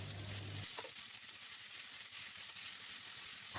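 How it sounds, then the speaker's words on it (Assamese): Onions and tomatoes frying in a little oil in a kadai make a constant close sizzle, with a low thud near the start and no speech. "এই গোটেইখিনি বস্তু কেৰাহীখনত অকণমান তেল দি পেলাই মই গৰম কৰি ল'ম, মানে অকণমান ভাজি ল'ম ৰংচোৱা হোৱালৈকে"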